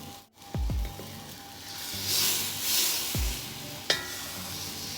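Curry sauce with seafood is stirred in a hot wok, with a soft sizzle and hiss, scraping swishes of the utensil, and a sharp clink near the end.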